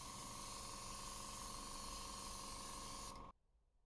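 A steady, loud hiss of an airbrush spraying white base coat onto a crankbait lure, unbroken for about three seconds before cutting off abruptly into near silence.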